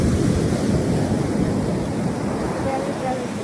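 Ocean surf rolls onto the beach at Lagos, Portugal, on an October day, a steady, dense wash of breaking waves with wind, close and continuous, and a faint voice murmuring underneath.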